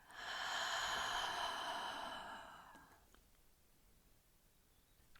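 A long, slow exhale through the mouth during a yin yoga breathing exercise, close and breathy, swelling and then fading away over a few seconds into quiet, with a small click at the end.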